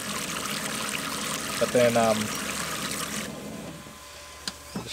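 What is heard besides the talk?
water running from Companion Aqua Cube Logic portable camping shower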